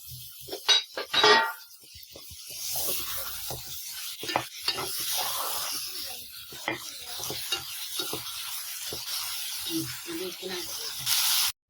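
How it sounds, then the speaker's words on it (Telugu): Tomatoes frying in a pan with onions for a chicken curry: a steady sizzling hiss mixed with scraping, stirring and clinking from a spoon against the pan, with a voice talking at times. "పక్కన టమాటా వేగుతుంది కదా"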